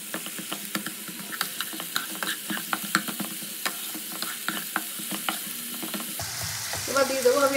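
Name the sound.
onion, tomato and garlic paste frying with mutton fat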